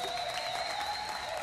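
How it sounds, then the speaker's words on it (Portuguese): Spontaneous applause from an audience at a pagode samba show, a brief faint steady patter of clapping at a distance. "eu queria agradecer essas palmas espontâneas"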